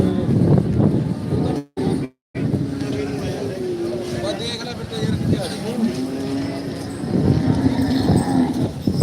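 A cow moos several times, long low drawn-out calls, amid a busy outdoor bustle of crowd noise and an engine hum at a livestock market in Khanna.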